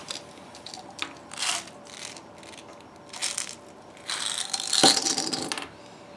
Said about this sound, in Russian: Отодвигаем подаватель вниз